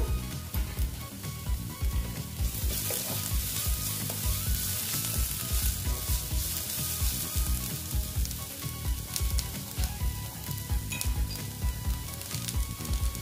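Oil sizzles and crackles steadily in a pan while a potato and wheat-flour snack cooks, with frequent stirring and scraping clatters over the dense hiss, loud and close with no talking.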